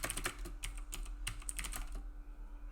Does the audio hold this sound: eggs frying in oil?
no